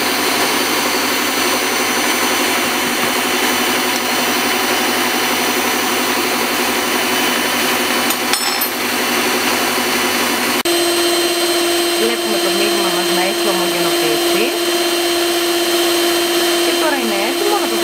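An electric mixer beats gingerbread cookie dough in a home kitchen, a steady loud whirring drone that runs throughout with a shift in pitch partway as the load changes, heard alone.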